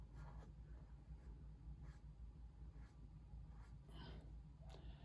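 An eraser being rubbed on paper to remove part of a pencil drawing, giving a series of quiet, brisk scrubbing strokes in an irregular rhythm.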